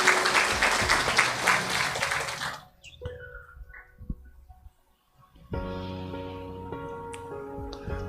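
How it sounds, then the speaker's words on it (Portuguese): Church congregation applauding, a dense burst of clapping filling the room for a few seconds before fading, followed by quiet and then sustained instrumental music. "Vamos dar uma salva de palmas para Jesus."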